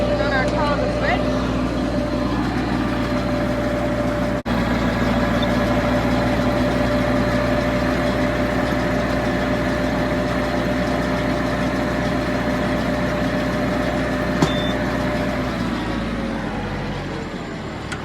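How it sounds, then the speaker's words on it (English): Farm tractor engine running steadily at raised revs with the PTO engaged, driving a baler loaded with a new roll of net wrap; a constant loud drone with a sustained hum that winds down near the end. "So, turn on the PTO. Rev it up."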